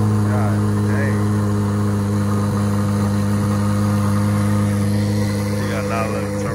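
A Chrysler 300C HEMI with a loud exhaust setup rumbles close by in a deep, steady, heavy drone that stays constant and powerful throughout.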